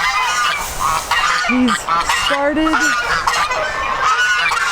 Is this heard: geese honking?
yes